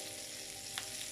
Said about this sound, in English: So I have extra hot sausages that I've been frying here